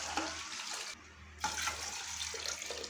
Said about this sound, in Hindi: ये 2 बर्तन मैं पानी के ऐड कर रही हूँ इसके अंदर।